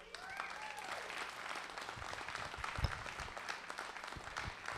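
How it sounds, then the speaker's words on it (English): Applause from a conference audience at a real estate investors' meeting, broadband clapping sustained across the clip at moderate level, with faint voices and a whistle mixed in. "can you give the loudest loud applause for Michael Kramer?"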